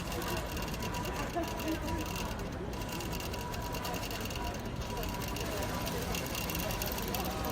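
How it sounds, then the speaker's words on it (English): A computerized Gammill longarm quilting machine with the Elevate system stitches a quilt block at a busy quilt trade show, its steady motor hum lost in dense crowd noise and chatter. "a plus machine stitching computerized with that new Elevate system"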